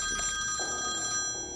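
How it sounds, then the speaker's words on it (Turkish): A telephone bell rings steadily and alone for a brief moment, close and clear, with no talk over it. "Telefona bak."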